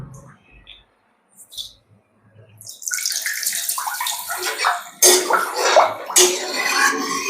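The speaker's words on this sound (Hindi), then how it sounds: "थोड़ा पानी डाल देते हैं," Water splashes and runs into an iron kadhai being washed out after cooking vegetables, a steady close splashing and rinsing that starts after a quiet stretch and grows louder midway.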